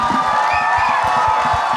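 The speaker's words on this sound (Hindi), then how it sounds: "जोरदार तालियां एक बार फिर से" Audience at a live event with Suniel Shetty on stage, clapping and cheering in a steady, dense burst of applause with crowd noise throughout.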